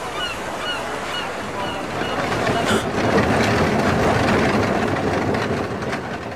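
Seagulls cry over a harbour soundscape of gentle surf and low ambient rumble in a Final Fantasy Tactics port-town scene, the bird calls scattered and fairly faint against a steady background wash that swells slightly midway.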